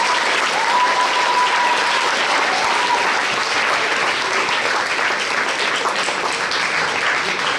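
An audience applauds junior-class medalists at a regional science fair final, dense and loud clapping that holds steady throughout without pause.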